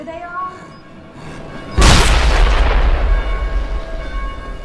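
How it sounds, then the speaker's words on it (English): A sticky bomb detonates in the zombie game Dead Island, a sudden loud blast followed by a long rumbling decay, after a few quieter seconds of game ambience. "So let's see if I can get him with the sticky bomb."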